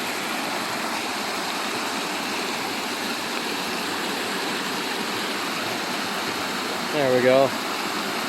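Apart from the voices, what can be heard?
rapids on the Black River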